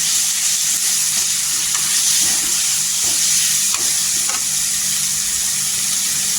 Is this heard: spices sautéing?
yes